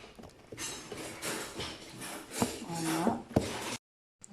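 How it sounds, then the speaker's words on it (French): Crushed chili is stirred with onion into a prepared paste, giving soft scraping and clinking of a utensil against a pot, moderately loud and continuous, with a couple of sharper knocks before it stops. "On remue le tout."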